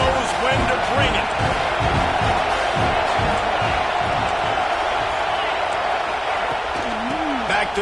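Football stadium crowd at an FSU vs Indiana game, a dense, steady roar of cheering that holds at an even level throughout, with a commentator talking over it.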